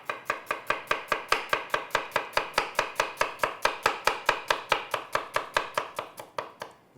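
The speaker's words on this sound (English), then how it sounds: "I've got some sesame seed and a little bit of onion. I'm just going to cut that up." Onion being chopped with a knife on a board, a fast, even run of about thirty crisp, close knocks that slows slightly and fades toward the end, with no talking.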